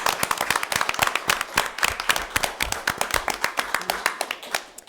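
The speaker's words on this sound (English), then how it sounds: "So I'd like to give him a round of applause for all their hard work in advancing shellfish." Meeting attendees at a town selectboard session clap together in a small indoor room, a burst of individual handclaps, sharp and fairly close, with a few voices murmuring underneath.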